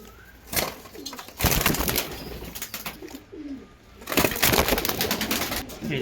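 A pure Mangalgiri male pigeon and a Fatka hen, newly paired, coo in bursts close by, with soft fluttering and rustling between the calls.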